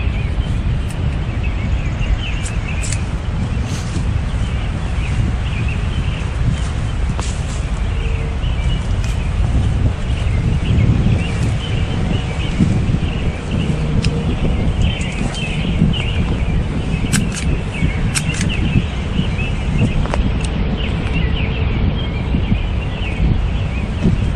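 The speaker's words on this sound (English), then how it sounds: "Here's how windy it is." Steady, loud wind roars and buffets the microphone throughout, a continuous rushing noise with occasional faint chirps in the background.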